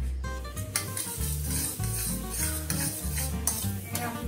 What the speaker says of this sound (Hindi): मीडियम आंच पर ही भूनते